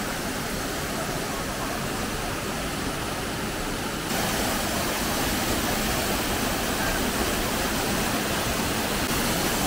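Steady broadband roar of Durgadhara waterfall at Amarkantak in Madhya Pradesh, close and continuous, growing slightly louder partway through with no pauses.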